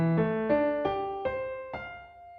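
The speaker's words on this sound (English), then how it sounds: "Then you want to play these letters on the piano." Piano notes played one at a time in a rising sequence of about six notes, each struck clearly and left ringing into the next, close and clean with no talking.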